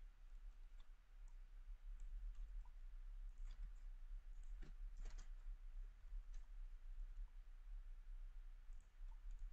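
A computer mouse clicks in a quiet room, a few faint, crisp clicks scattered irregularly over a low steady hum.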